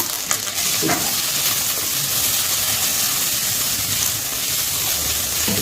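Small onions with garlic, ginger and rock salt frying in a pan for chutney, a loud, steady sizzle with occasional stirring scrapes, close and continuous without talk.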